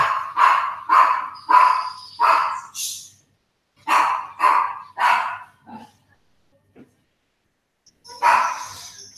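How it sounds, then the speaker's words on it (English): A house dog barks excitedly as a maid arrives, a close, loud run of rapid barks in quick bursts, pausing briefly, then a final bark after a short quiet gap. "My maid's just arrived, so that's why the dog's going mental."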